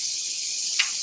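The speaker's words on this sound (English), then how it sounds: "You can hear the sizzle" An oil and butter mixture sizzles in a hot pan for Creole cooking, a steady bright hiss with a short louder crackle near the end.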